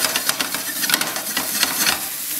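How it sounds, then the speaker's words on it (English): Cumin toasts in a pan over low heat, giving a dense, close crackling sizzle with scraping stir noises throughout, no voices. "I'm just gonna toast that cumin and get all those flavors in there"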